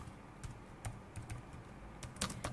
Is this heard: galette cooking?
no